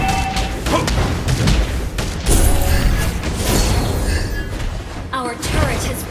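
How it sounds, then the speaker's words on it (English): A turret being destroyed in Mobile Legends, a dense loud rumble of explosions and crumbling debris with game effects layered throughout, under an announcer voice. "Our turret has been destroyed."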